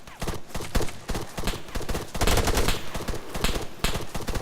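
Machine gun fire rattles in rapid, loud bursts with short gaps between volleys, close and dominant throughout, with a little speech faintly underneath.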